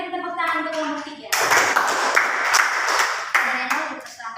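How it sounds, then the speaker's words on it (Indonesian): Classroom applause for a student group after their discussion presentation, a burst of clapping that starts partway in and continues under and around a voice talking. "Mari kita berikan tepuk tangan untuk kelompok 3"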